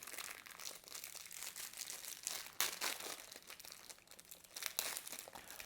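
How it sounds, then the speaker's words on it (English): Plastic packaging of an MRE Star 24h ration crinkled right against the microphone, a close, continuous crackling rustle with a few sharper crunchy bursts. "Just gonna crinkle the plastic real loud right in the microphone."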